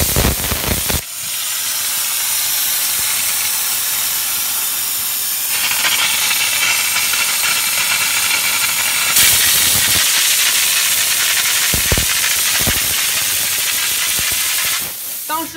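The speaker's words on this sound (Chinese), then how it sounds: "调到最大是因为听见啪嗒啪嗒啪嗒啪嗒的水声啊，这不是蒸汽不稳定，而只是蒸汽的含水量变大。" An LPG-fired 12-bar steam car washer spraying with its wetness turned to maximum, a loud continuous hissing jet that runs almost unbroken, shifting in tone as the nozzle moves, with brief pauses near the end.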